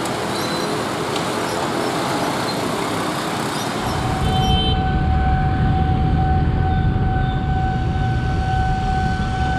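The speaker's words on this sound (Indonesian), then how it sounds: "Ada kereta teman-teman, cuman saya belum tahu nih." A train rumbles past on an Indonesian railway, a loud broad roar that swells and deepens partway through, with a steady tonal whine above the rumble.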